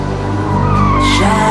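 A Ferrari 355 supercar drives hard with its tyres squealing in a sustained skid, the high screech rising over the engine note, close and loud.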